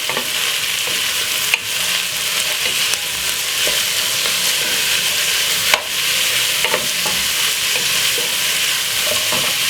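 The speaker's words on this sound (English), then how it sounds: "So we're gonna fry off this about 2 seconds." Mixed vegetables for Jamaican jerk pasta stir-fry in a pan with coarse pepper and mixed herbs, giving a steady loud sizzle throughout, broken by a few sharp clacks of the utensil against the pan.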